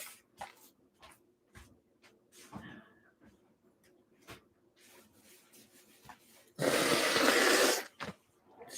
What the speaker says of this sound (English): I'm gonna blow my nose